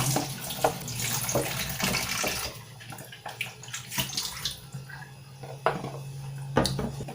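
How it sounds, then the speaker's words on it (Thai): Running water splashing steadily from a tap as limes are rinsed, with occasional knocks and clatters, fairly close and without talk. "หลังจากนั้นก็ให้เราล้างน้ำเปล่า"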